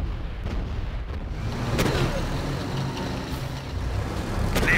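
Offshore naval artillery in Command & Conquer Generals Zero Hour: a few heavy booms land at irregular intervals over a rumbling battlefield background, moderately loud.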